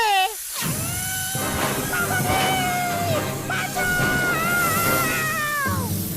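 Cartoon characters shriek and yell in fright at an anaconda, several overlapping high-pitched screams and wails running almost nonstop, loud and close over a busy animated soundtrack.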